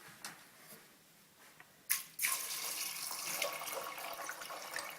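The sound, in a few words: water poured into pot of beans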